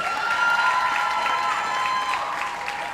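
Audience applause at the Marcus Garvey Awards for Excellence in the Performing Arts, a steady wash of clapping from a large crowd that stays even for a few seconds.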